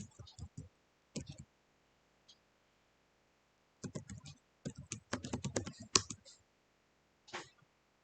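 Username and password typed on a computer keyboard at a Kali Linux login screen in a VirtualBox virtual machine: irregular bursts of close key clicks, a short run, a pause, then a denser flurry of taps ending in a final keystroke.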